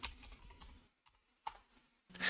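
Keystrokes on a computer keyboard come in quick bursts of clicks, a pause, then a few more taps, loud and close with no talking over them.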